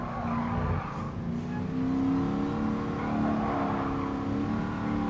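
A 1971 Mustang in Gran Turismo Sport revs hard and holds steady, its engine tone rising and falling in pitch, with brief tire squeal, loud and close throughout with no pauses.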